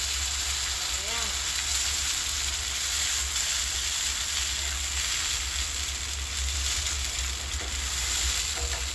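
Fresh tomato dropped into a hot pan sizzles and fries steadily with a constant hiss, close and loud, and a voice speaks faintly underneath.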